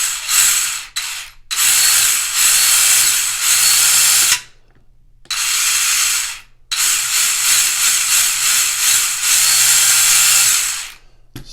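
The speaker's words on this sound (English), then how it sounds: "just connected the motor to make sure everything's running in the right direction" A Tamiya TA-05R RC car's 4370kv electric motor runs on the bench in several loud, high-pitched whirring bursts separated by short silent gaps, with no talking.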